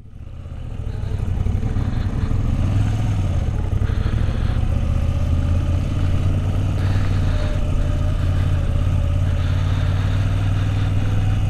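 A Moto Guzzi V85 TT motorcycle pulls away from the Adventure Bike Festival, its engine building to a loud, steady, close drone with a low throbbing note that holds without a break.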